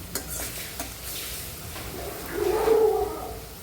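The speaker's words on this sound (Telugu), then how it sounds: "ఇంకాసేపు వేయించుకుందాం, ఇంకా కొంచెం కలర్ రావాలి" Bitter gourd pieces fry in a pan for a crisp bitter gourd fry, a soft sizzle swelling louder near the end with a few light stirring knocks, no talking.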